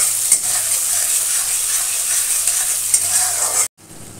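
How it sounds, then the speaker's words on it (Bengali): Tomatoes and salt stirred in a frying pan for a Bengali mustard pabda fish dish, a steady loud sizzle with scraping stir strokes, cutting off abruptly near the end. "তো নুনটা দিয়ে আমি ভালো করে আবার নেড়ে চেড়ে নেবো, এটা টমেটোটা গলিয়ে নেবো ভালোভাবে।"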